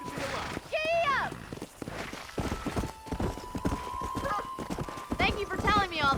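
Horse hooves trotting in the game Red Dead Redemption while herding cattle, a steady clip-clop under someone talking, with a horse's whinny breaking through.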